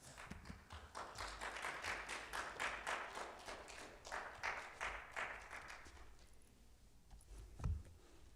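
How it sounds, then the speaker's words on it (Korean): A church congregation at a special early-morning New Year service claps to welcome the pastor, soft, scattered applause that swells and then thins out, fairly faint and distant, with a brief thump near the end. "박수로 환영하겠습니다"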